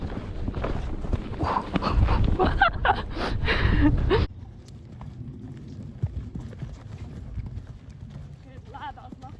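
A horse cantering at a showjumping outing, hooves clip-clopping in a quick rhythm, loud at first and then fainter, with people talking over it.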